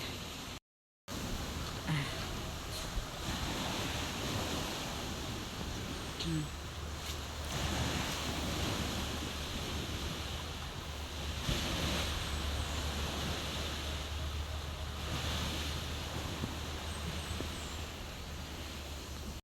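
Steady roar of surf at high tide and wind across an open shore at Lasang Forest Park, continuous and fairly loud, with a brief dropout near the start.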